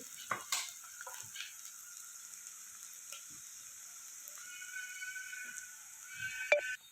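A vegetable Manchurian mixture sautés in a pan over a gas flame, giving a soft steady sizzle with occasional light scrapes and clinks of stirring, quiet and close.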